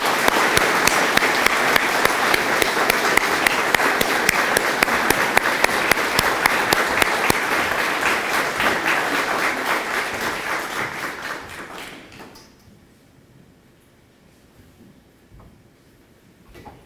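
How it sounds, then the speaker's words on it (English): An audience at a Friends of Tourism award event applauds with loud, dense clapping for about twelve seconds before it fades into a quiet room. "let's give them a round of applause and invite them to the stage"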